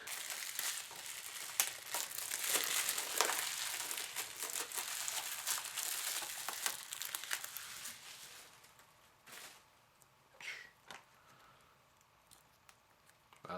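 Plastic wrap crinkles and crackles as it is peeled off a Blu-ray steelbook package of Big Trouble in Little China. The rustling is close and fairly quiet, busy at first and then thinning to sparse crinkles.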